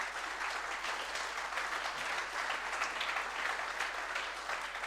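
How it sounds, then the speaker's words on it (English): Steady applause from a conference audience for an education panel at a live hackathon event in Vizag, a dense continuous patter of many hands at even loudness throughout, with no voices above it. "a big round of applause to our education panel"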